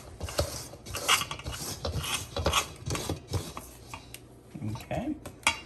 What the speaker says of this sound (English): Scrape this down real quick. Make sure I get everything mixed in.